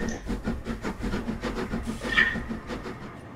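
In Train Simulator 2020, the Coronation Class Duchess of Hamilton steam locomotive's wheels spin, throwing out a rapid, even run of chuffing exhaust beats over a low rumble, with no talking.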